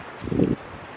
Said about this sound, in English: It's really windy, I'm sorry.